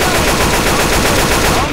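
Dense, continuous automatic gunfire in the zombie shooter Left 4 Dead 2, loud and close, with rapid overlapping shots sustained throughout and no clear speech.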